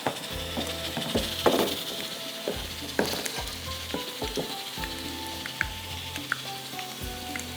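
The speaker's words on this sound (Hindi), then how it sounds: "यहाँ पर प्याज हो रहा है हमारा ब्राउन, टमाटर फ्राई" Onions browning and tomatoes frying in a pan for Lucknowi qeema, a loud continuous sizzle with scraping stir strokes and clinks of a utensil against the pan, close up with no talking.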